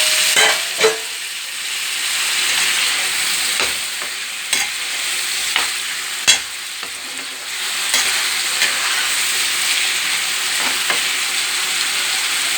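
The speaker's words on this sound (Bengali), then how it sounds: "দেখো আমার মশলাটা ভাজা হচ্ছে।" Spices and boiled potatoes fry in a pan with a loud, steady sizzle, punctuated by a few stirring knocks and scrapes, close up and with no talking.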